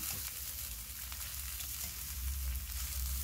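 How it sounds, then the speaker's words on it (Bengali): Cabbage and capsicum stir-frying in a pan over a high flame give off a steady, close sizzle and crackle with soft stirring scrapes, and it stays loud and unbroken the whole time. "তো বাঁধাকপিটা দিয়ে দিলাম, এবার ক্যাপসিকাম দিয়ে দেবো। এটাকে একটু নেড়ে চেড়ে নেব"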